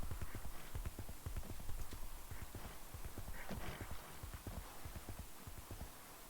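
A horse's hooves clip-clop steadily in 9yinTH, an even walking rhythm, close and moderately loud against faint game ambience.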